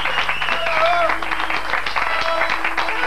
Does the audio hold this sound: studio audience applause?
yes